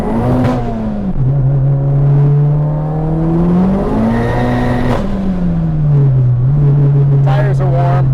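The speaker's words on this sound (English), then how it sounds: "We're gonna get around this big old dirt truck right here and do a quick, probably 3rd and 4th gear pull." A fully built, turbocharged Mazdaspeed 3 with a BNR S5 turbo, running 82% ethanol, pulls hard through third and fourth gear, its engine note climbing and dropping between shifts, loud and close inside the car, with the driver talking over it.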